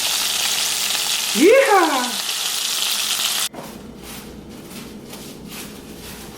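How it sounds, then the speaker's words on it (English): Chicken frying in oil in a home kitchen for southern fried chicken sandwiches, a steady loud sizzle for the first three seconds, then a quieter hiss with faint stirring. A voice briefly exclaims over it. "Frying the chicken."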